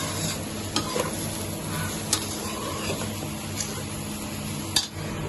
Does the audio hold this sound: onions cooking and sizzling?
yes